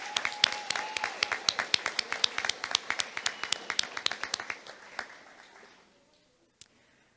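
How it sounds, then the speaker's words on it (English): A graduation ceremony crowd gives a round of applause, starting with crisp individual claps that quicken, then thin out and fade to near silence, ending with one last lone clap. "Justin Bingham, if we can give him a round of applause."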